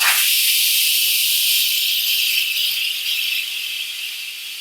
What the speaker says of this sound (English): you change the venting knob over to venting